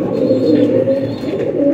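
Pigeons coo in a breeding enclosure where a hen sits on eggs with the male perched above, a steady low throaty cooing that runs continuously and close, with no voices.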